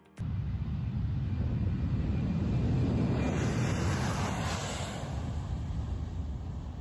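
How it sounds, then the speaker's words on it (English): Plane taking off from a dirt runway, a loud, steady low engine roar that starts abruptly and holds throughout, buffeted by wind noise. "This plane taking off from a dirt runway."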